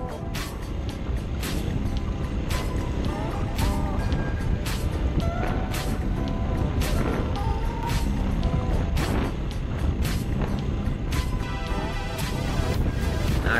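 A CSC TT250 beginner dual sport motorcycle ridden along a sandy dirt trail, its engine drone steady under loud rushing wind and rattling knocks from bumps.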